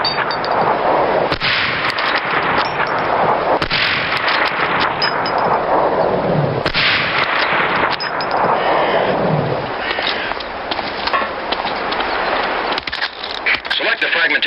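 Sniper rifle shots at targets in Medal of Honor: Allied Assault, a few sharp separate cracks spaced seconds apart over a steady rumbling background, with a voice giving instructions throughout.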